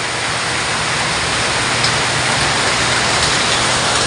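Heavy rain pours down in Miranda in a dense, loud, unbroken hiss, steady throughout with no voices.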